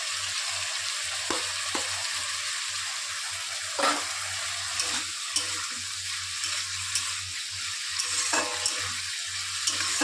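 Mung dal tipped into a hot frying pan and stirred, a continuous dense sizzle with a low steady hum beneath and occasional scrapes and knocks from the spoon, no voices.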